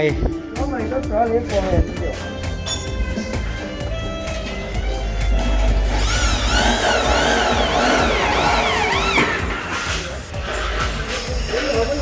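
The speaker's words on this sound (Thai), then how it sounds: "ตอนนี้ก็เจาะรูก่อนครับ เพื่อที่จะติดตั้งไฟนะครับ" Power drill boring holes in a dump truck cab, whining bursts that rise and fall repeatedly amid clattering workshop noise, with someone talking throughout.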